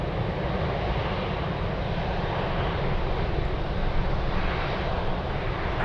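A US Air Force C-32 arriving to land at Anchorage gives a steady, broadband jet roar that holds fairly constant, with no voices over it.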